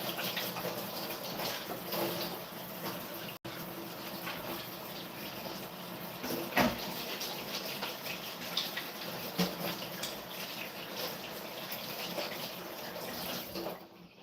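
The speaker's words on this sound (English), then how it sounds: "Hang on, I gotta wash my hands." Tap water runs steadily into a kitchen sink while hands are washed beneath it, a continuous close splashing gush lasting throughout with brief clatters and no talking.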